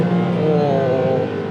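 Porsche 911 Turbo engine in Sport Plus mode with a manual gearbox and sport exhaust: a loud, close, sustained throaty drone whose pitch climbs slightly, with no speech.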